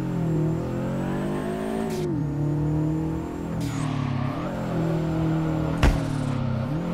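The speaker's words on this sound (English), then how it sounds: "Oh, that backfire though." Car engine backfire in the DRIFT21 driving game, a boxer-engined car revving steadily with harmonic engine tone, rising and falling, then a sharp loud backfire crack near the end before the engine note continues.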